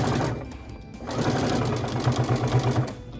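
A sewing machine runs steadily while stitching a rag quilt, its motor whirring continuously with a rapid, rhythmic needle chatter that surges louder toward the end.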